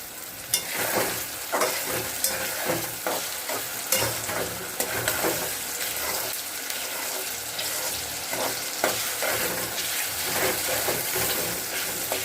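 Prawns frying in a pan with onion, tomato and salt make a loud, continuous close sizzle broken by frequent scraping stirs, with no talk.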